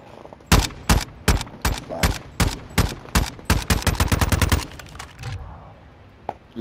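Gunfire from a gun in a video game: loud, sharp shots fire in a quick rhythmic series, speeding into a rapid burst before stopping, then a faint trailing sound follows.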